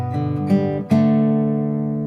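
Fingerstyle acoustic guitar plays bar 3 of Amazing Grace, three plucked notes and chords ringing out in sequence with the last one sustaining and fading, close and clear with no voices.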